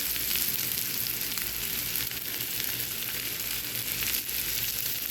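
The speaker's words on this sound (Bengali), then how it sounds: "পেঁয়াজটা আমি হালকা বাদামি করে ভেজে পটলের উপর দিয়ে দিব" Sliced onion frying in a pan until light brown, a steady, even sizzle with faint crackles, close and continuous with no talking.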